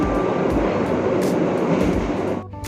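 The Bengawan economy train rolls into Klaten station, heard from aboard as a loud, steady rumble and clatter of wheels on track that drops off sharply near the end.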